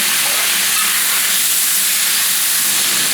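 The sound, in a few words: soy sauce hitting hot pan with pepper steak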